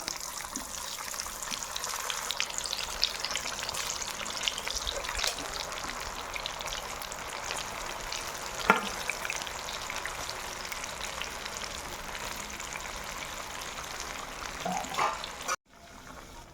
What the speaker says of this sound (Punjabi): ਹੁਣ ਆਪਾਂ ਇਹਨੂੰ ਤੇਲ ਦੇ ਵਿੱਚ ਪਾ ਦਵਾਂਗੇ